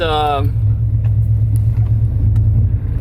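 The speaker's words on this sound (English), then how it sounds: "Let's go ahead and fire the truck up." A muscle truck with Holley Sniper EFI idles close by, giving a deep, steady engine rumble after a short spoken phrase at the start.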